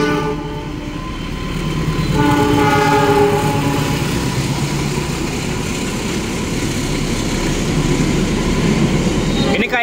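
The Cakrabuana passenger train, running from Purwokerto to Gambir, passes close by in a loud continuous rumble with rail clatter and a sustained horn-like tone, heard from aboard another train as voices talk faintly underneath.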